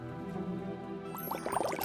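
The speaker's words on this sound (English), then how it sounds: "Start your potion by adding water." Water pours into a toy magic cauldron, with a short burst of splashing and gurgling near the end after a quiet electronic hum.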